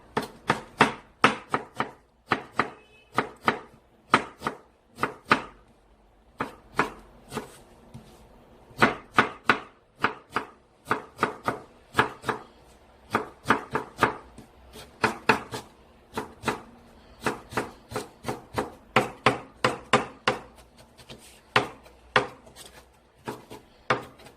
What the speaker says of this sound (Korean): 당근 반개는 이렇게 보드랗게 썰어서 준비를 해주시고요